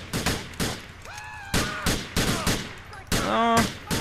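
Gunfire in the video game GTA 4: a rapid series of sharp, loud shots and bursts across the clip, interspersed with tonal, ringing game sounds and effects.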